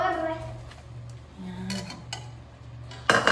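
A fork scrapes and clinks against a pan while pancit canton noodles are stirred with soy sauce and oil, soft light scraping followed by a louder metal clatter at the end.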